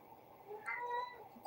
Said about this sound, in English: Two cats meowing in the background.